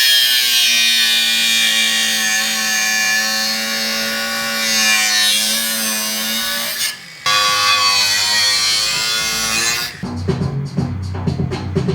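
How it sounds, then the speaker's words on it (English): A power drill bores straight through old engine parts, a loud steady whine with a strained pitch that cuts off abruptly before a rougher, choppier stretch of grinding at the end. "We're going to drill a hole straight through, and then I'll drill a bigger hole in the top"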